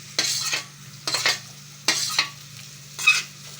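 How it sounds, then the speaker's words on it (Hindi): Onions dropped into a hot karahi for beef karahi hiss and sizzle in four distinct stirring bursts, close and fairly loud, with steady frying underneath. "अब हम इसके अंदर प्याज डाल देंगे।"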